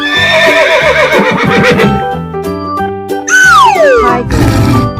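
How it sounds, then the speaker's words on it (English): Cartoon horse neighing over a bright musical backing; a loud, shrill whinny with a long falling squeal near the end, close and clear. "Horse."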